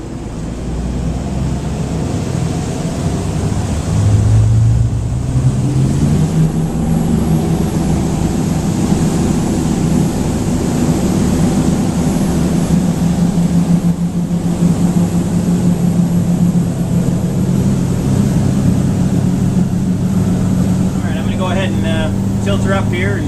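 A 2009 Sea Ray 480 Sundancer motor yacht's engines roar steadily as the boat accelerates onto plane, a loud, continuous droning rumble with rising tone and wind, heard up close on board.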